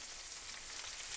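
Vegetables caramelize with tomato paste in a frying pan for boeuf bourguignon, a soft, steady, even sizzle heard briefly on its own.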